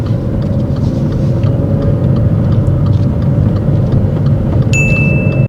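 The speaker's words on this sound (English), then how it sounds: "she should have changed up to second gear," Car engine held in first gear while driving round a roundabout during a driving test, a loud steady strained drone that stays at one pitch throughout, close up from inside the car, with a brief high beep near the end.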